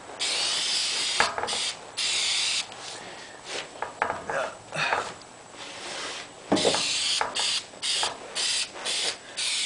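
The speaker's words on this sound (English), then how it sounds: "it makes for a much easier time in spray painting" Repeated short hissing bursts of spray paint, close by, with pauses between them and some rubbing and handling noises in the gaps.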